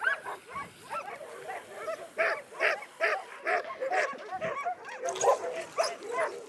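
A kennel of about fifty dogs fills the air with overlapping barks, yips and whimpers, a busy chorus of short calls near and far that rises and falls without pause.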